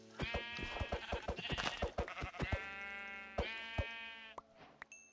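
Sheep in Minecraft bleating in repeated quavering calls, several in quick succession and then longer drawn-out bleats, close and fairly clear with a few short clicks near the end and no talking.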